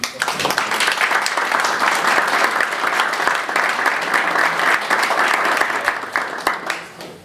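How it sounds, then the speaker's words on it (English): A room full of attendees at a regional emergency planning committee meeting breaks into sustained, loud applause, a dense, even wash of many hands clapping nonstop for several seconds. "I just want to give a round of applause."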